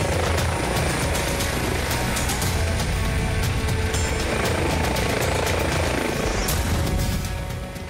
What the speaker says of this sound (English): The helicopter has been requested as the remote location has limited road access.